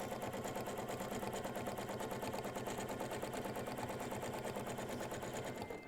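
A sewing machine stitches continuously at a fast, even rhythm while couching yarn in free-motion sewing, with no pauses and no talk.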